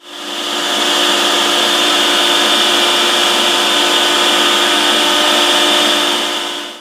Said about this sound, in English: clamp it down, and then just route it out with the pattern bit